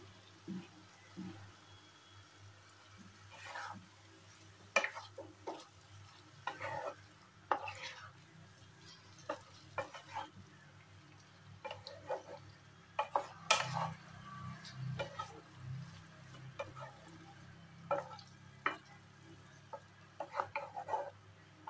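Poppy seed paste cooks with pointed gourd in a pan, giving a soft, low sizzle under frequent scraping and clinking of a spatula on the pan, fairly quiet and close with no speech.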